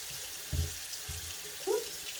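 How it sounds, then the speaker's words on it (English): Water running from a bathroom tap into a sink while makeup brushes are cleaned, a steady soft rush with a couple of low bumps and splashes, fairly close and alone. "I know I'm running a lot of water right now."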